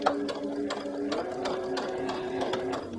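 A sewing machine stitches along the fold line of bias tape on a beginner's circle top, a steady rapid mechanical whirring with regular clicking needle strokes, close and alone without talk.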